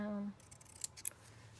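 Scissors snip through paper for an altered-book autumn journal, two or three quiet, crisp cuts heard close up after a brief word from a voice.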